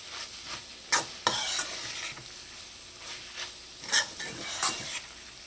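A spoon stirs curried mussels in a pot as geera powder goes in, with a steady soft sizzle of drying liquid under scraping, clinking strokes, a few of them sharper and louder, and no voices.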